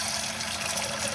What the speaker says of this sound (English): you're gonna put some water in the pot